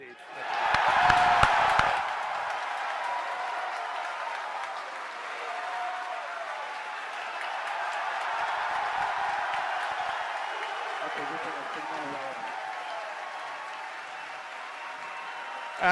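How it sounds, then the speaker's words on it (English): Staff at SpaceX headquarters cheer and applaud after stage separation during the Crew Demo-1 launch, a sustained, moderately loud crowd roar that begins with a burst of clapping and continues under a commentator's voice. "As you can hear from the cheering here at SpaceX headquarters"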